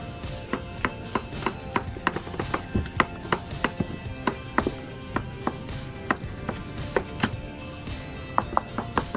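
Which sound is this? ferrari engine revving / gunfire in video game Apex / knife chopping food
knife chopping food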